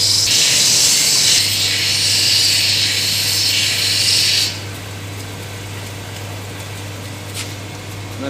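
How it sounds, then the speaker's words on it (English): A fine lapidary wheel smooths and bevels the edges of an agate cabochon: a steady, loud, bright grinding hiss over a low motor hum runs for about four and a half seconds, then cuts back to the quieter hum alone. "You can go on to the fine one and just smooth off the edges a little bit."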